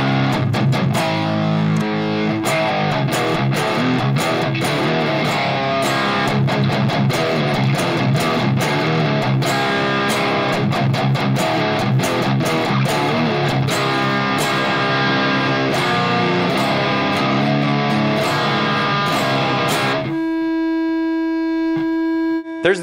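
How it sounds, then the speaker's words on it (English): A cheap carbon-fiber-style electric guitar plays a long, dense riff through a high-gain distorted amp tone, loud and continuous, before the strings stop and leave a ringing hum of amp noise at the end. "Let's just go straight to a high gain tone."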